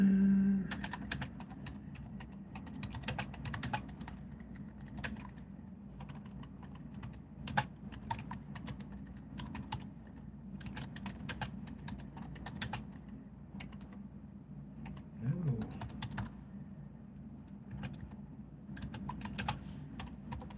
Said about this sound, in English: if you guys want to know why am I typing so much stuff